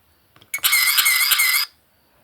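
An SVBONY SVGo action camera firing off burst photos, a single bright rapid clicking-whir lasting about a second, close and fairly loud, with faint clicks just before it and no talking.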